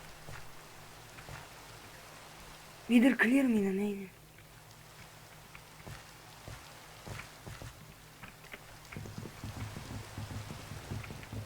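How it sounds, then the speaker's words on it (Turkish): Steady light rain in Minecraft patters in the background while a voice speaks briefly, then soft pattering and small taps continue. "Yağmur Yağmur başladı."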